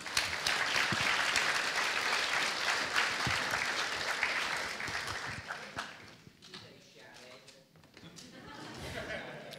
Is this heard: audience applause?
yes